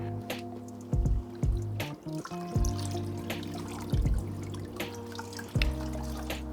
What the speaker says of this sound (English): I'm just gonna dunk it in my bucket here.